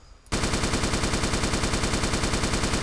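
Rapid, continuous automatic gunfire in a video game bursts in loudly after a brief quiet moment and hammers on in a steady, unbroken stream with no talking.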